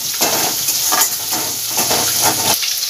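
Onion, ginger-garlic paste and tomato fry in oil over low heat, a loud, close, steady sizzle broken by rhythmic stirring scrapes, with no talking.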